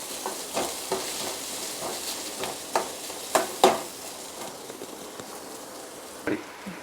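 Onion, turmeric and other ingredients being stirred together in a pan for an Indian-style pasta, with faint sizzling and intermittent scrapes of a spoon against the pan, fairly quiet and close.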